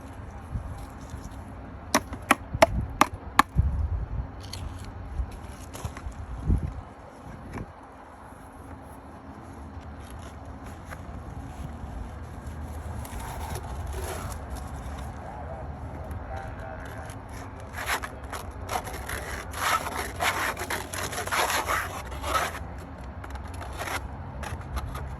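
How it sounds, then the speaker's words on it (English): Magnetite, gathered from a magnet sluice while working Nome sand, is scraped into a gold pan. A few sharp gritty strokes come first, then a longer stretch of rough scraping and rustling at close range. "So we'll scrape that into the pan here."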